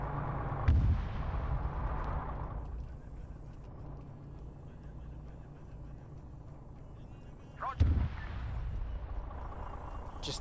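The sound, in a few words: explosions destroying vehicles in military video game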